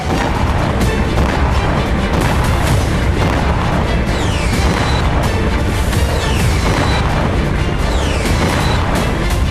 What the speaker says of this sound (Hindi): क्रीमिया में यूक्रेन ने एक के बाद एक इतने धमाके किए कि न सिर्फ रूसी सेना बल्कि क्रेमलिन भी दहल गया